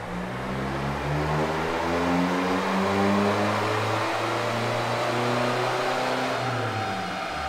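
Mazda BT-50 3.0 CRDI diesel engine revving on a dyno after ECU remapping, a steady pull with harmonics climbing smoothly in pitch over several seconds, loud and continuous with no talk.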